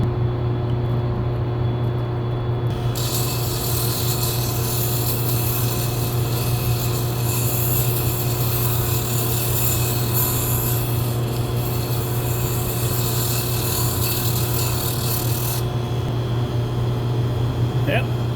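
A Sinpiode mini multi-functional desktop table saw cuts through wood about 7/16 inch thick, its steady motor hum joined by a loud, rasping cut that runs for most of the clip before easing off near the end.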